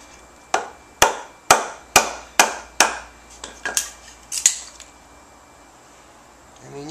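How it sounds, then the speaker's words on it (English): A knife or axe cuts carefully around a homemade wooden turkey-hunting striker, making about nine sharp, close chopping knocks at a steady pace that fade into quiet. "you got to cut around it with an axe or a knife"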